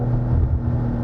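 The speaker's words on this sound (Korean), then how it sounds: "붕 하면서 약간의 부밍음, 팝콘 사운드가 들리거든요" Synthetic engine sound from a Genesis GV60 Magma electric car's V6-based active sound design, a steady low booming drone with faint popcorn-like crackle, continuous and fairly loud throughout.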